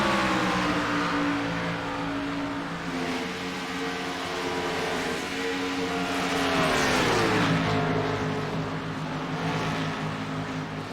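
Race cars in a sim racing game accelerate and hold high revs, their engine notes rising and shifting pitch continuously and loudly throughout, with no voices.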